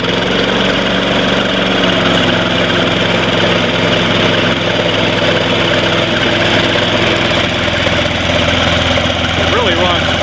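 A Snapper Big 6 lawn mower engine, model P216012, idles steadily at fine throttle while warming up, a loud, even close-range rumble with a continuous buzzing drone throughout.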